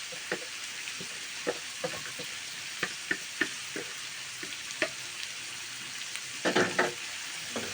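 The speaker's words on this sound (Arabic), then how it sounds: "ننزل بقى عليها ايه البصل." Liver frying with onions in a pan makes a steady close sizzle, broken by scattered sharp spatters and clicks and a louder burst of crackling near the end, with no voices.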